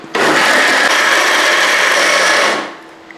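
A mixer grinder whirs loudly and steadily as it grinds palappam batter mixed with yeast, starting abruptly and then winding down as the motor stops.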